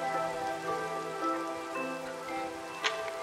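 Minecraft rain falls as a steady, even hiss of droplets pattering on surfaces, moderately quiet, with a faint game tone running beneath and a brief louder blip near the end.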